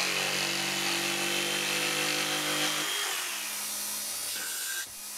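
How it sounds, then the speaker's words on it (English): Power jigsaw cutting through a wooden skateboard deck, a loud continuous buzzing saw drone heard close up that eases and shifts pitch near the end of the cut. "I used a jigsaw for the cut"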